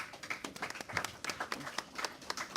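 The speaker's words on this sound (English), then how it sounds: "Those claps for you" Scattered applause and clapping for NASCAR champion Kurt Busch at a Pocono Raceway celebrity event. It is faint and uneven, with irregular hand claps from a modest crowd lasting a couple of seconds.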